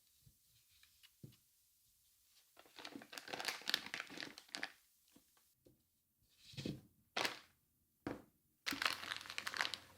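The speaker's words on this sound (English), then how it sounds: "I now put this into the piping bag." Plastic piping bag crinkling and rustling as smooth cruller batter for German Spritzkuchen is spooned in, in irregular bursts separated by short pauses, close and fairly faint.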